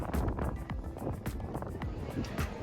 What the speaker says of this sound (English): It's windy up here, but beautiful sailing.